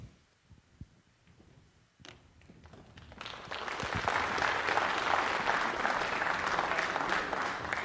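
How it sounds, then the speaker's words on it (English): An audience at a school's future freshman night breaks into applause, starting with scattered claps and swelling into sustained, dense clapping across the room. "They're clapping for you."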